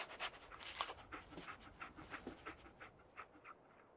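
Dogmeat, the dog from Fallout 4, pants in quick rhythmic breaths, close and fairly soft, with no one talking.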